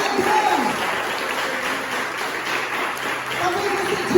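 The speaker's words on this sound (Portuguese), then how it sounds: "Palmas para Jesus." A church congregation claps and applauds during a worship service, a steady sustained wash of hand claps filling the room, with voices mixed in underneath.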